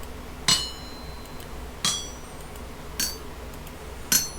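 Metal is hammered on an anvil in the Vintage Story video game, giving four separate ringing clanks spaced about a second apart over a quiet background with no talking.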